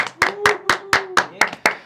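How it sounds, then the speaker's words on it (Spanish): Slow, evenly spaced clapping from a small group during a Spanish-language podcast introduction, about eight crisp claps in under two seconds. A faint sustained voice tone runs underneath. "Carlos Encinas y Alejandro Encinas, un aplauso."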